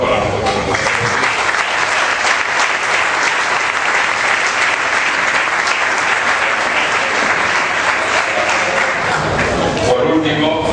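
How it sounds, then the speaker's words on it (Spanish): Loud, sustained applause from a gala audience in Puerto Sagunto, a dense crowd clapping close and evenly for several seconds before it quickly dies away near the end, with voices briefly audible beneath. "Yo pido un aplauso para nosotros"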